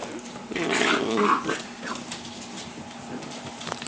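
A puppy growls and whimpers close by, a short rumbling snarl with soft yips, against a quiet room.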